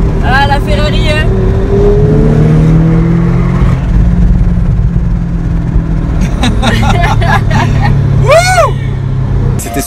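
A Ferrari and a Porsche 718 Cayman S run on a Dubai circuit, their engines droning and revving steadily throughout at close range, while people talk over the noise.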